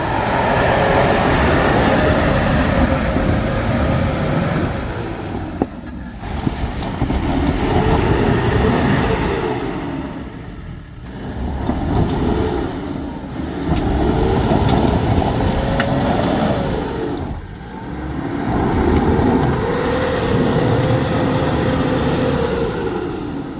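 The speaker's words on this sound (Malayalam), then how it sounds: "മാരക ഓഫ് റോഡാണ് ഇവിടെ നടന്നുകൊണ്ടിരിക്കുന്നത്" An off-road vehicle with a punctured tyre grinds over a rough track, its engine loud and close, revving in repeated surges with a whine that climbs and falls between brief dips.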